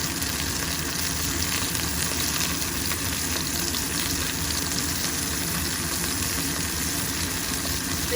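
Food frying in a pan, a steady continuous sizzle with dense crackle that holds at a constant level for the whole stretch, close up and alone with no talk.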